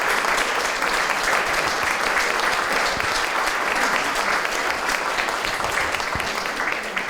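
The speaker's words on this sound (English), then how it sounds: "let's give Kaleb another round of applause" An audience applauds a speaker at an evening history talk about mountain men, dense continuous clapping held at an even level throughout, moderately loud and without voices.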